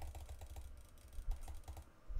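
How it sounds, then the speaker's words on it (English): Small sharp clicks from a computer mouse or keyboard during Minecraft play, quiet and close, in an uneven rapid series with no talking. "Sorry if you hear my mouse clicks."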